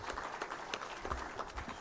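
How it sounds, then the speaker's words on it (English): An audience at a ministry of education results event gives a steady round of applause for a speaker: dense, continuous clapping with crisp individual claps standing out, at moderate level. "join me in appreciating Dr. Donald Kaberuka with another round of applause"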